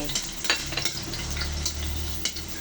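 Food sautéing in a small amount of oil for a tuna and egg dish, a steady soft sizzle with occasional stirring and utensil scrapes against the pan, close and continuous throughout.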